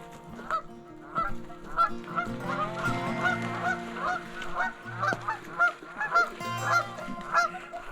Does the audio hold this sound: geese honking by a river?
yes